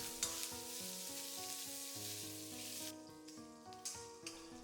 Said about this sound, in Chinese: 把五花肉下锅，快速翻炒均匀，把五花肉里面的油脂炒出来